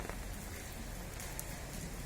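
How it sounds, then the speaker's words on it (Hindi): Steady rain falls outdoors in an Indian village, a dense, even hiss of drops hitting the ground that continues without a break. No voices are heard. "क्योंकि बारिश हो रही है"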